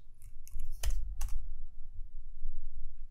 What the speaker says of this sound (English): To sign in, we simply go ahead and type in our email address